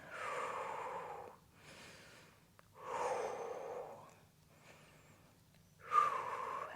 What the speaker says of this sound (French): et on respire ici